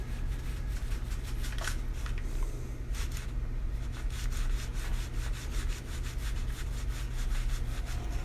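Pencil strokes drawing short back-and-forth streaks on paper to shade the ridges of a rose petal, a steady run of soft, close scratchy rubs repeating quickly without speech over a low background hum.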